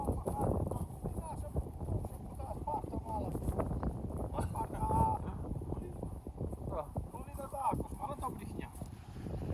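Horse hooves clip-clop steadily at close range while people talk over them, with a breezy outdoor background.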